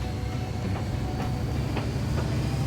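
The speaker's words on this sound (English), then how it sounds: "Here's our new train." Diesel train running in the railway-building game Mashinky, a steady rolling rumble with periodic soft clicks of wheels over rail joints, alone without voices.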